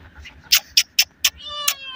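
Short, close kitten meows from a pet kitten, four quick calls at an even pace, then a longer, drawn-out meow, with no talking over them.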